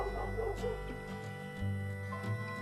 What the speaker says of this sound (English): I'm sorry if you can hear the dogs outside.